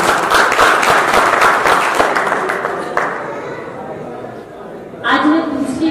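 A seated audience at a spiritual gathering breaks into loud, full applause that gradually thins and fades, before a voice begins speaking near the end.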